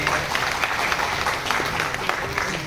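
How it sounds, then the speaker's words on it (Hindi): Sustained applause from a crowd at a railway employees' association event celebrating Ambedkar's birth anniversary, a dense patter of many hands clapping at moderate distance, steady for a few seconds. "उनकी भी जबरदस्त तालियां होनी चाहिए"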